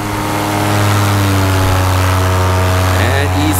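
A paramotor engine at full throttle drones loudly and steadily during a climb, a constant buzzing hum with strong tonal harmonics, with wind noise and a slight pitch dip near the end.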